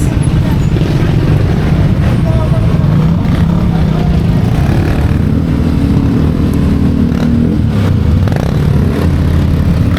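Loud, continuous rumble of road traffic, with engines droning and motorbikes revving close by, no pause in the noise.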